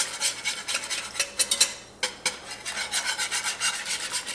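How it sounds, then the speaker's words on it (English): A whisk stirs flour into oil for a dark roux, giving close, rapid rhythmic scraping and rasping against the pot, with a few louder knocks partway through and no voices. "And then I'll use a whisk"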